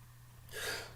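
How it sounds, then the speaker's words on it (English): A single sneeze from a man during a football pre-match preview, a short, sharp burst of moderate loudness over a steady low hum, with no talking. "I sneeze in threes, by the way."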